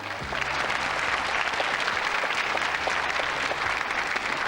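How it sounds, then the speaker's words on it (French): Studio audience at a French television quiz show applauding in a steady, dense burst of clapping that holds evenly at moderate volume from start to finish. "C'est pour vous ces applaudissements"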